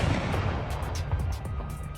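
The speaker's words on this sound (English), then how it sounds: "I hit the trigger in my vest. The explosion is mainly light and a high-pitched screech." A dense, rumbling blast effect fills the whole moment in a horror heist audio drama, loud and continuous with crackling bursts over a heavy low roar, triggered from a vest and followed by a high screech.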